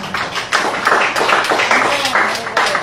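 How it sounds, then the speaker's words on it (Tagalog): Sparse applause in a church gathering, a few people clapping unevenly at close range with a voice speaking over it. "Salamat sa dalawang pumalakpak."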